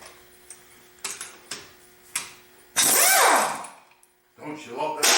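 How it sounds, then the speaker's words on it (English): Metal valve and bolt parts clicking and scraping as a suction valve is worked free from a compressor valve plate, several sharp separate ticks followed by a louder grinding scrape and more rattling near the end. "We're going to take that suction valve out."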